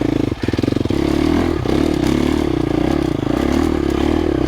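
A 2025 KTM 350XCF dirt bike climbing slowly uphill in first gear, its engine holding a steady low thrum close by, with a brief rattling clatter near the start.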